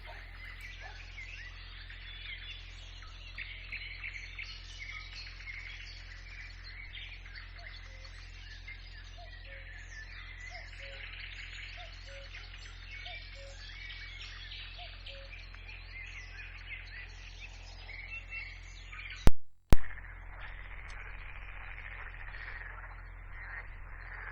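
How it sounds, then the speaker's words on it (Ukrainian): Birds sing in a forest around a watering hole, with short chirps and calls scattered near and far over a steady low hum, broken by a couple of sharp loud knocks near the end. "Козлу підспівували птахи"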